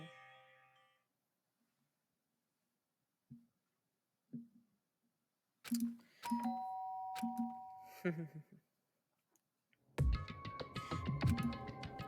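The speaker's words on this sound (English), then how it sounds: "did I hear the doorbell?" A two-tone doorbell chime in the Danganronpa video game rings out clearly near the end, preceded by soft scattered knocks and a brief melodic chime, with long quiet gaps between.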